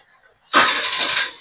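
A used motorcycle is started with its electric self-starter: near-silence, then an abrupt loud burst as the engine catches and keeps running close by.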